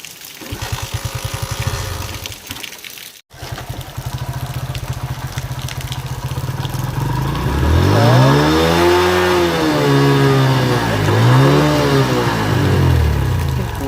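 A vehicle that stalled after rainwater got into it during a downpour: its engine runs roughly at first, then revs loudly and up and down in repeated surges, close by.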